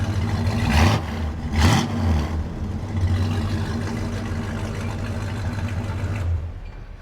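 A 1969 Dodge Polara 440 revving: two sharp throttle blips rise over a deep, loud exhaust rumble early on, then the engine settles back to a steady close idle.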